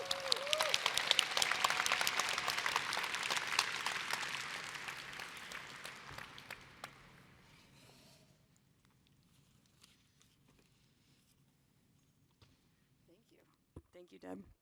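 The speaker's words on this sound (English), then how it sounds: "So please give a round of applause for Lynn Root." A conference audience at a Python Software Foundation session breaks into loud, dense applause that holds for several seconds, then thins out and fades to scattered claps and quiet room noise.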